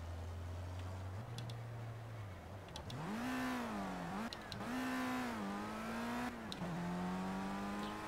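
A race car lapping the Suzuka circuit in the Project CARS video game, its engine revving up through the gears with rising whines, a short lift, then sustained high-pitched acceleration, loud and close with no talk.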